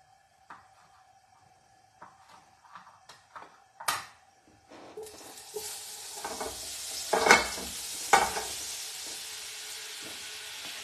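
Pork chops frying in clean oil and a little butter: quiet clicks and taps give way to a steady hiss of sizzling, with a few louder pops and utensil scrapes over it.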